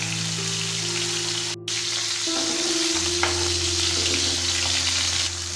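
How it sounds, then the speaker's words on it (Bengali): Bhola fish frying in hot oil, a loud continuous sizzle with crackling spatter heard up close, a brief cut partway through and a low steady hum beneath. "এক পিঠ ভাজা হলে উল্টে পাল্টে ভালো করে লাল লাল করে ভেজে নেব।"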